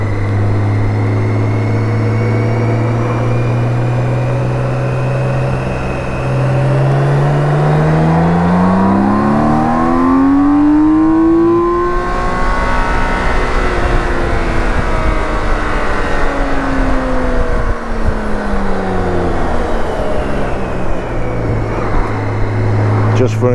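A BMW K1600 motorcycle accelerates hard in second gear, its engine note climbing steadily in pitch over several seconds to a loud peak, easing off, then rising again, close and continuous under heavy wind rush.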